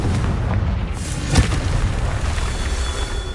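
Confringo fire spell exploding in the Hogwarts Legacy video game, a single deep boom with a short burst near the middle over a dense rumbling game backdrop, no talk.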